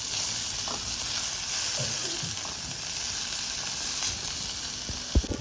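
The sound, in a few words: onions and green chillies frying in oil, being turned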